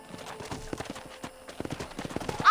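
Horses at a corral in the Western video game Red Dead Redemption: crisp, uneven hoofbeats clop close by in a walking rhythm, with a brief whinny right at the end and only a little speech.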